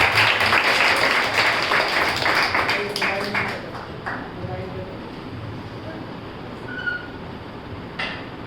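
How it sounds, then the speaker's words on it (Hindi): An audience claps at the closing ceremony of a Zen Yoga crash course. The applause is loud and crisp at first, thins out after about four seconds, and gives way to quieter room sound with faint voices. "तालियां जोरदार उनके लिए।"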